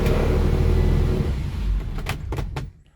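A Triumph 2000 engine idling on choke with a deep, rough low rumble, close and loud, which fades down toward the end while a few short knocks and clunks sound over it.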